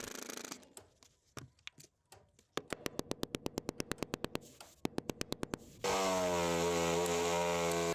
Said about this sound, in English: I just cut the last panel to size